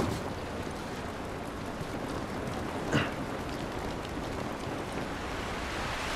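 Steady rain falls outdoors in the video game The Last of Us, a dense, even hiss with a brief louder splash near the middle and no talking.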